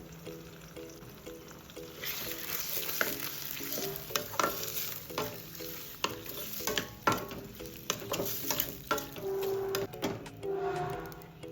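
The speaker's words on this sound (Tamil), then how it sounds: "வெங்காயம் தக்காளி இஞ்சி பூண்டு எல்லாம் சேர்ந்து வதங்கட்டும்" Onion, small tomatoes and crushed ginger and garlic sauté in a pan, a continuous sizzle broken by frequent clattering strokes of a spatula against the pan, growing busier after the first couple of seconds, with no speech.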